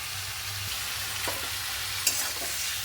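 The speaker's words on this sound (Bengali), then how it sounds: "এবারে ভালো করে নাড়াচাড়া করে নিয়ে" Vegetables seasoned with turmeric and salt fry in white oil for a chorchori, giving a constant close sizzle. Light scrapes of stirring come through, and one sharp clink of a utensil sounds near the end, with no talking.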